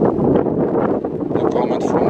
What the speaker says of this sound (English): I hope you can hear me well because it's very windy.